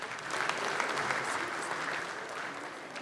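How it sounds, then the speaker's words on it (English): A conference audience applauds panelists and their moderator on stage, loud sustained clapping from a large crowd, dense and even from start to finish. "a round of applause for them"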